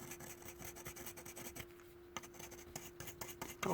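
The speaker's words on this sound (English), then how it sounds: "With one of these fiber pens, we're going to try to clean this" A fiber pen scrubs quick, rapid strokes over a Peugeot or Citroen car key fob while cleaning it, a faint, close scratchy rubbing set over a steady low electrical hum.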